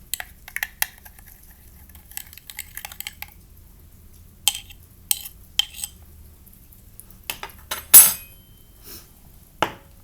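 A mixture with dish soap is stirred in a cup, producing scattered clinks and scrapes of a utensil against the sides in short bursts over a quiet background, with one louder knock near the end.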